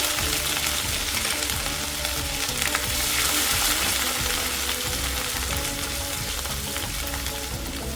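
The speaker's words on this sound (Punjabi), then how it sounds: "ਤੇਲ ਗਰਮ ਹੋ ਗਿਆ ਸੀ ਹੁਣ ਇੱਕ ਚਮਚਾ ਅਸੀਂ ਜੀਰੇ ਦਾ ਪਾ ਦੇਵਾਂਗੇ ਤੇ ਜੀਰੇ ਨੂੰ ਤੜਕ ਲਵਾਂਗੇ" Cumin seeds, ginger and garlic sizzle and crackle steadily in hot oil in a pan for the whole stretch, a close, dense frying hiss with no talking.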